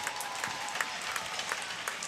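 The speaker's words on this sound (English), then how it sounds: "a round of applause for both teams" Crowd applause for both teams at a testimonial match face-off, steady moderate clapping from a gathered audience throughout, heard at some distance.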